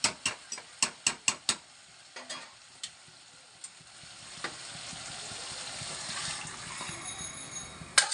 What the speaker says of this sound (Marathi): आता त्याच्यात गरम पाणी टाकत आहे.